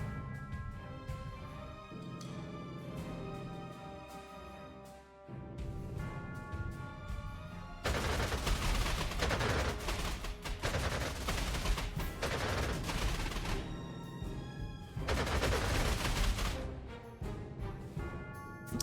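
Gunfire aimed at a P-61 aircraft in the strategy game Panzer Corps 2: dense bursts of rapid shots swell over steady game music, growing louder and heavier in the second half, with no talk.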